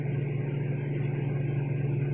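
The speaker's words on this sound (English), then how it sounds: "I have never heard a microwave sound like this." A running microwave oven gives off a steady, loud mechanical hum with a low buzzing drone and a grainy rattle on top, continuous and unbroken throughout, sounding odd after a plate was put inside.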